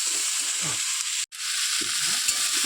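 Food frying in a pan in a home kitchen, stirred with a spatula: steady close sizzle with scraping strokes, briefly cut off by a short gap midway, no talk.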